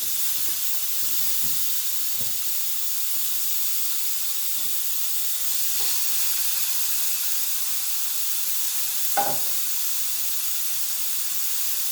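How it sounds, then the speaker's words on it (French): Moroccan meat skewers laid on a hot griddle plate give a steady, fairly quiet hiss and sizzle, with a few soft knocks and clicks of the skewers being set down and one sharper tap later on. "Voilà, elle est bien chaude, la plaque. Je vais les mettre à cuire."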